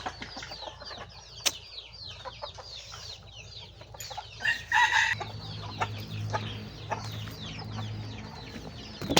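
Backyard chickens in a coop cluck busily and close by, a dense run of overlapping clucks and squawks, with a brief burst of louder calling and wing flapping midway.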